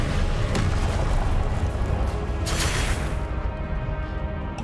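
An Incendio fire spell cast in Hogwarts Legacy, a loud, dense roaring whoosh of flame with deep rumbling that surges and fades over a few seconds, broad and continuous with no talking.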